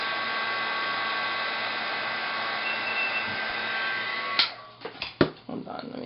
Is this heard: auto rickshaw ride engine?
no